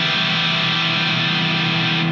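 A distorted electric guitar is struck hard with the unmuted strings left ringing, a dense, noisy wash of clashing tones sustaining loudly and evenly for a couple of seconds, without any voice.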